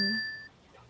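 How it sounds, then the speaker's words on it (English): A single bright phone notification ding rings out at the start and fades quickly, with quiet room tone after. "That was just my phone."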